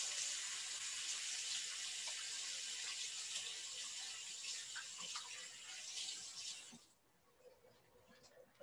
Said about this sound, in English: I'm going to wash my hands so that I can show you from the other view. Always use soap.